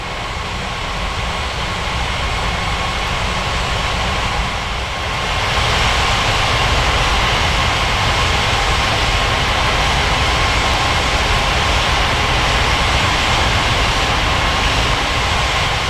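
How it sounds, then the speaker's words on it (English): An airliner takes off from runway 14 right at São Paulo: a steady, loud engine roar that swells after a few seconds and holds as a broad, continuous rumble, heard alone. "Cleared for takeoff runway 14,"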